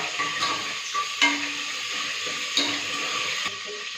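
Biryani ingredients with torn leaves get stirred in a cooking pot, giving a soft continuous sizzle with a few sharper utensil clinks against the metal.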